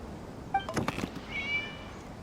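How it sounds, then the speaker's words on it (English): A cat meows in the video game Genshin Impact, two or three short, faint calls over quiet ambient background, with a brief thudding sound between them. "It was just a cat."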